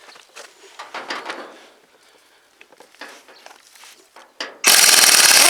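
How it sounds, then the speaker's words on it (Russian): An impact wrench loosens car wheel nuts, with faint scattered clicks and handling noises first, then a sudden loud, sustained rattling burst near the end. "Этот гайковерт откручивает"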